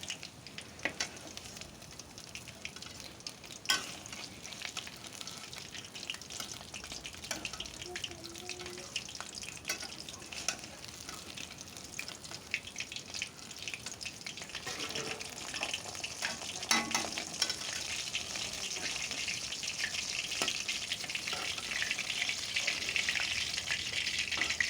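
Fish sizzling steadily as it fries in a pan, a continuous close crackle with occasional clinks, growing louder toward the end, with light talk in the background.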